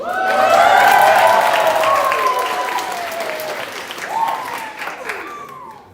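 Middle school students at a school leadership assembly cheer and applaud loudly, with excited shouts and whoops over dense clapping that gradually fades out.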